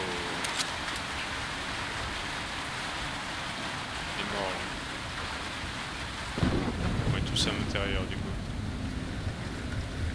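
Heavy rain with rumbling thunder in a marshland storm in the video game Metro Exodus, a steady downpour hiss, a louder thunder roll swelling midway, and someone talking over it.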